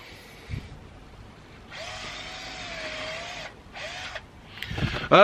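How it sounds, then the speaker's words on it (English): Dremel rotary cutting tool running in short bursts, a high whining buzz for nearly two seconds, a brief second burst, then clattering handling noise, fairly close and alone. "I've bought myself a Dremel. It's a little cutting machine"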